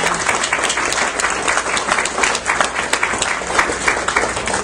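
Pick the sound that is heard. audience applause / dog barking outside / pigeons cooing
audience applause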